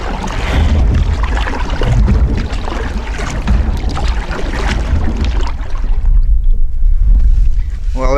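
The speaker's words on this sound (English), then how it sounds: "Okay, let's paddle on." A canoe or kayak is paddled on a lake under heavy wind buffeting. Water sloshes and paddle strokes blend into a loud, continuous rumble.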